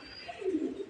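A gola pigeon gives one brief, low coo up close, a soft rounded call rising out of light background noise for well under a second.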